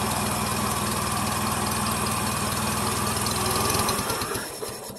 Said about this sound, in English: This thing running right now? It's running.